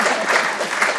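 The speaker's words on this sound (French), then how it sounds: "Applaudissez Francis Ponge" A conference audience gives a brief burst of applause: a dense, even patter of many hands clapping, close and loud, lasting about a second.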